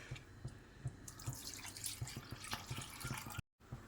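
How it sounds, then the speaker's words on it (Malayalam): First coconut milk poured into a simmering beef stew, a close, faint trickle and splash of liquid in short bursts, with no voices. "ഇനി 1ാം പാൽ ഒഴിക്കാം."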